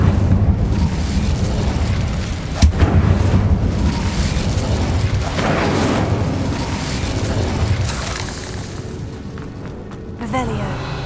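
An Incendio fire spell cast in the video game Hogwarts Legacy, with a sharp crack followed by a roaring whoosh of flame and later a second burst, mixed with game ambience and a spoken incantation.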